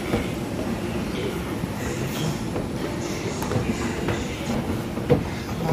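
A metro train running on the Delhi Violet Line during heavy rain, giving a steady, even rumble with faint clicks and occasional higher squeaks, loud and continuous throughout, with a little background voice activity.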